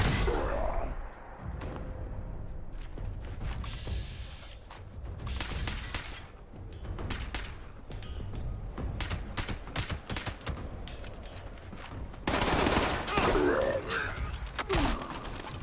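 Pistol gunfire in the online game Fallout 76, a string of sharp, irregular shots spread across the stretch, with mechanical clicks between them and a denser, louder volley near the end.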